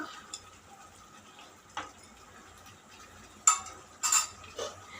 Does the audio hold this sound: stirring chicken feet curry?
yes